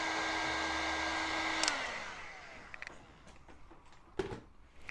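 A heat gun blows with a steady whooshing hum as it heats the roof plate of a 1/6 scale Armortek Hetzer Jagdpanzer 38 model tank, then winds down after a couple of seconds, followed by faint clicks and handling knocks.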